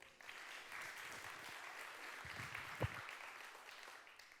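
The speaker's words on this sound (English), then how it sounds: "Give yourselves a round of applause." Business event audience applauding, a soft, even wash of clapping heard at a distance, with a single sharp knock or bump near the end.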